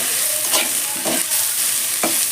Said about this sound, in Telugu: ఇది కాస్త సన్నని మంట పైన నెమ్మదిగా వేయించుకున్నాం